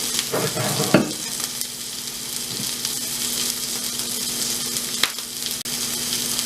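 Coffee-crusted steak searing in a hot pan, a loud steady hiss of frying fat running throughout, with a couple of soft clatters near the start, no talking.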